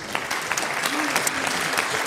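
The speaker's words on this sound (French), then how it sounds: "On peut aussi l'applaudir." An audience applauds steadily through a panel discussion on the commandment to love God and neighbour, a dense, even patter of many hands, with a brief voice-like tone rising faintly midway.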